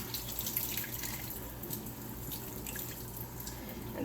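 A Norwex cloth is rinsed under a running tap, producing a steady, continuous rush of water into a sink with splashy detail, fairly close and consistent throughout with no talking.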